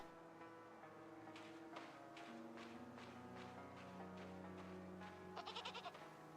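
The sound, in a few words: goat bleating in a farm-town video game demo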